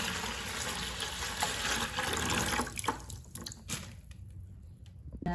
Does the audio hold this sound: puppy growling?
no